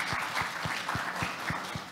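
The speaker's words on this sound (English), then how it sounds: "I think a big round of applause for our 6 hot seat panelists." An audience at a panel session on anticipating and acting early claps with sparse, evenly spaced, fairly soft claps over two seconds, sounding like a thin room rather than a full ovation.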